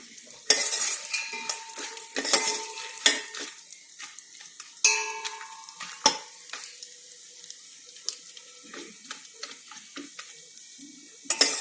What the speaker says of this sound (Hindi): बादाम ज़्यादा लाल नहीं करना, असें हल्के रोस्ट करने हैं।